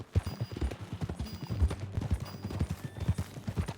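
Horse hooves clip-clop in an uneven trotting rhythm in the video game Red Dead Redemption 2, close and moderately loud, with faint background ambience.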